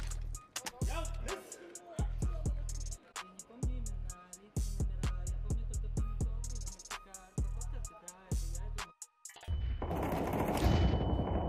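Rapid gunfire bursts and sharp single shots in the video game Counter-Strike 2, loud and dense, with deep booms and music underneath, ending in a roaring noisy wash.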